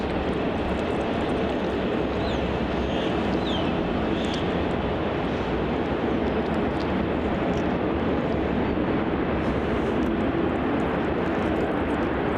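An Air India airplane lines up on runway 34 at Melbourne Airport, heard as a steady, loud broadband roar that holds without a break, roughened by wind noise.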